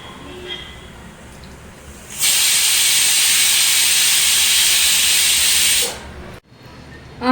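Loud, steady hiss of steam rushing from a pressure cooker for several seconds, then cutting off abruptly.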